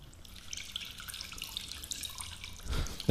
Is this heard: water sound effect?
yes